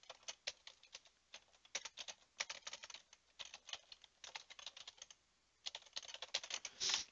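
Quiet, rapid tapping of fingers on the touchscreen keypad of a Toshiba e-Studio copier while entering an email address, irregular clicks in bursts with a short pause, close and soft with no talking.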